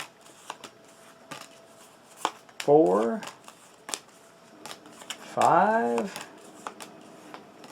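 Playing cards dealt out for the Defenders of the Last Stand board game, two distinct brisk shuffling swipes spaced a few seconds apart among light taps on the table, while a voice counts aloud.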